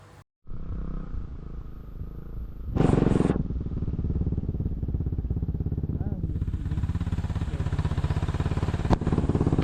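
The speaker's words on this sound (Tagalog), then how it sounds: "Gamitin ang engine brake ng motor para hindi masyadong pokpokin ang preno." A motorcycle engine braking down a steep descent, a continuous close throbbing drone with a brief louder surge early on, running steadily with faint talk over it.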